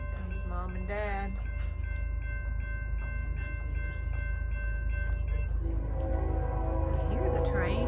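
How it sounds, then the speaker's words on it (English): A train passing through Bell Buckle, Tennessee, its horn sounding in long repeated blasts over a steady rumble of rolling cars, loud and fairly close, with a voice briefly audible. "I hear the train."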